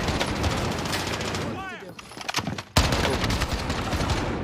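DMR rifle gunfire in Call of Duty Warzone, dense rapid shots and battle noise, a brief lull with whooshing effects, then a sharp loud burst as firing resumes, with speech mixed in.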